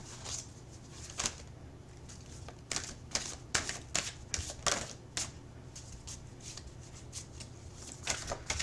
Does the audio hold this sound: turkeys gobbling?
no